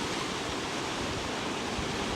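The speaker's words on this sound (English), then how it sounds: "You got the waterfall starting up there" A waterfall in Shenandoah: a steady, dense broadband rush of falling water, loud and unbroken throughout.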